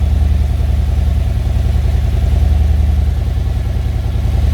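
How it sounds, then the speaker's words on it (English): The engine of a 2020 Harley-Davidson Road Glide Special idles steadily after start-up, a loud, close, even low rumble with a constant throb and no talking. "So we're starting the bike right now. We're gonna run the oil through the engine."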